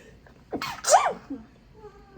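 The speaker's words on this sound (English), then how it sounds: "I feel like I have to sneeze" A single person's sneeze, a quick sharp burst with a brief inhale before it, close and fairly soft, followed by a quiet breath and silence.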